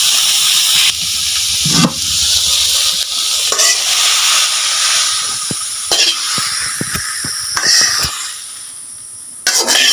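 Taro (ghetkochu) leaves sizzle and hiss as they fry dry in a pan, with loud bursts of stirring and scraping breaking through a steady crackling hiss.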